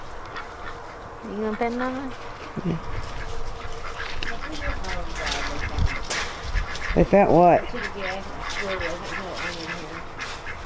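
Ducks quack on a farm amid other poultry, with a short burst of quacks early and a louder run of harsh quacks later, heard under and between people talking nearby.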